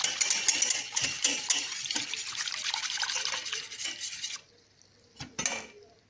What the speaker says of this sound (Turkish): Və bunu qarışdırıram tam ki düyürlərini açım.